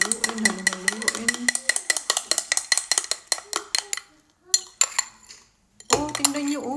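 A spoon stirs Milo into Coke, clinking rapidly and rhythmically against the glass, then slows to a few isolated taps with silence between them. A voice speaks briefly near the end.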